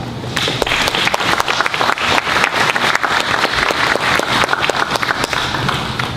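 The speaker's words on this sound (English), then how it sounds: "Can you please give a round of applause to Paul?" A room of Tea Party Network conference attendees applauds a speaker being introduced, steady dense clapping filling the whole stretch at close range with no talk over it.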